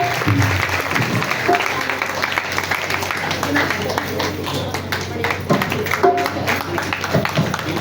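An audience at a Kartik katha gathering claps to welcome a family, with uneven clapping mixed with a voice speaking over it and a low hum beneath.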